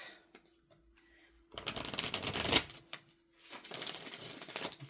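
Tarot cards are shuffled in two bursts of rapid riffling and flapping, close by and fairly quiet, with a soft steady hum under the pauses.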